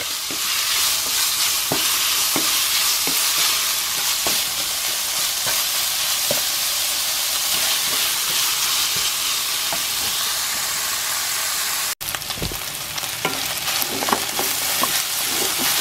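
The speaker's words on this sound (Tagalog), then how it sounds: "lutuin natin itong ground pork" Ground pork cooking in a pan for an eggplant omelette, giving a loud, steady sizzle with scattered crackles and spatters, briefly interrupted near the end before resuming.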